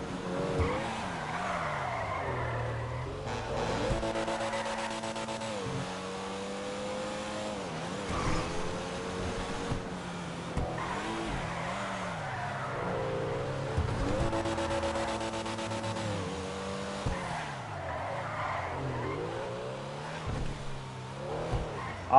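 Sports car in GTA 5 Online driving hard, engine revving up and down through gear changes with repeated tire squeals and skids, steady and fairly quiet with no talk.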